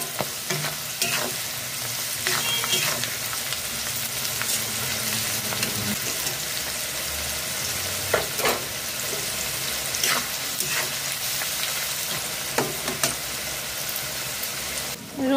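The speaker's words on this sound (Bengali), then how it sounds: "রসুন দিয়ে 2 মিনিট নাড়াচাড়া করে ভেজে নিয়েছি লো টু মিডিয়াম ফ্লেমে।" Garlic frying in a pan over low to medium flame for a garlic pickle, stirred now and then: a steady close sizzle with intermittent scraping and clinks of the spoon, no talk.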